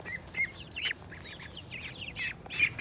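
Several six-week-old ducks quack and chatter in short, nasal bursts over a soft background hiss, fairly close.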